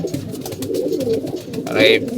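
Pigeons coo softly at close range, a low rolling murmur with a brighter call near the end, kept indoors during molting.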